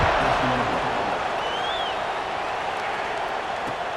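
A stadium crowd in College Football 26 roars steadily before the kickoff, a loud continuous wash of cheering and noise that holds throughout, with no voice over it.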